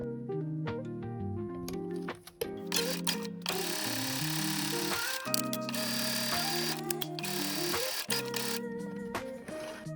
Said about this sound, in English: Sew along the long edge using a 1/4 inch seam allowance to create a tube